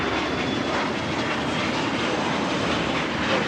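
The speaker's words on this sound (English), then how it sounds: "That is a Challenger 300 taking off." A Challenger 300 business jet takes off at LAX, its engines a loud, steady roar that holds close and constant throughout, with no talking.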